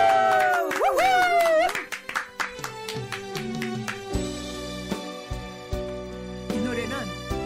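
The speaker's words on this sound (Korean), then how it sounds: "박수!" On a TV singing-class show, a studio audience claps in bursts as the live song begins, short sharp hand claps over sustained instrumental music and held tones.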